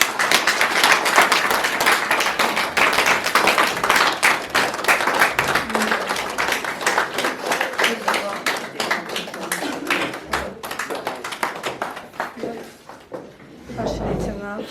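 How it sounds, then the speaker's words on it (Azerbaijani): An audience at an art exhibition event applauds, dense steady clapping that gradually thins out and fades over several seconds. "Əl çalaq."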